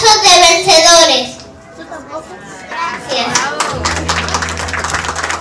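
Clapping for a young boy at a children's school graduation ceremony, a loud burst of handclaps mixed with children's voices, then fading into quieter room chatter and a steady hum.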